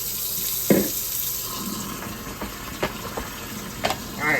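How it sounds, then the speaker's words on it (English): Hot water runs from a kitchen tap while cooking, a steady hissing rush with a few knocks and clinks of handling around it, close and fairly loud, no talking. "Get my hot water going here."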